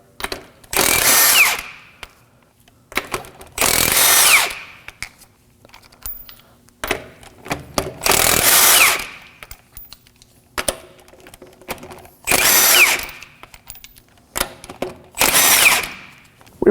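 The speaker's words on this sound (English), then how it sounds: "using a 19mm socket, we're going to remove the tire" Power tool with a 19mm socket removing the front left wheel nuts on an Acura MDX, five loud separate bursts of whirring, each lasting about a second, spaced a few seconds apart with quiet gaps between.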